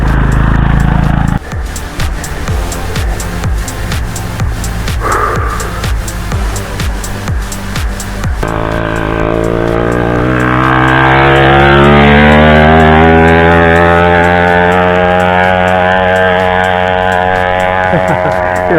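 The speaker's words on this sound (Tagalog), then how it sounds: "Hirap-hirap yung motor." Motorcycle engine labouring on a group anniversary ride, first a choppy stretch of sharp clattering bursts, then a steady droning tone that rises slowly and holds, loud and close throughout.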